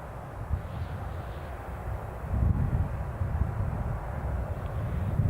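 A flying school light aircraft takes off at Newcastle International Airport, its engine a low, steady drone heard from a distance under wind noise, growing slightly louder midway.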